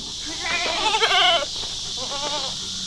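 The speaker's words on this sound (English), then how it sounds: "Well, I've got a trailer load of goats here." Goats bleating in a livestock trailer, several wavering bleats close together and fairly loud, then a softer bleat a moment later, over a steady background hiss.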